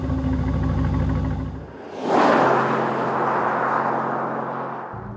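A 2017-era Aston Martin DB11 with its AMG-sourced V8 drones with a steady engine tone, then a loud broadband rush sweeps in as the car surges past or accelerates, easing off gradually toward the end.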